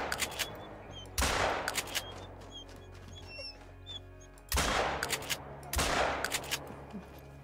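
Gunshots in a hunting video game, three loud, sharp blasts spaced a few seconds apart, each with a rumbling echo tail, over quiet outdoor ambience with faint birdsong.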